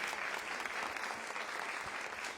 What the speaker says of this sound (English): They deserve a huge round of applause for putting this together and bringing all of us together.